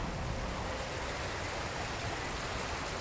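A video game waterfall on PS4 roars as a dense, steady broadband wash of rushing water, close and constant with no talk.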